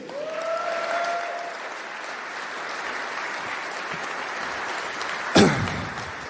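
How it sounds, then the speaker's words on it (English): Conference audience applauding at a Bitcoin event in Amsterdam, a steady broad wash of clapping sustained throughout, with a brief louder burst near the end. "please join me in giving a very round of applause"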